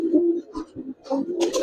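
Giribaz and coloured pigeons coo in short, soft, throaty bursts close by, a few notes overlapping over a couple of seconds with no speech.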